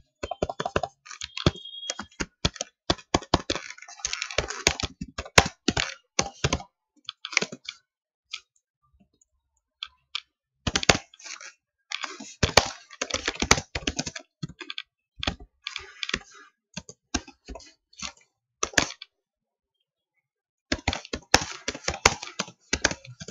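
Rapid bursts of clicky keystrokes come from a computer keyboard while text is typed into Notepad, close and crisp, with several short pauses between runs of typing and no talking.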